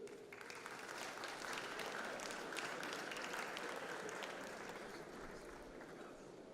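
Audience applause at a graduation convocation ceremony, a steady sustained wash of many hands clapping throughout, fairly distant and even, fading slightly toward the end.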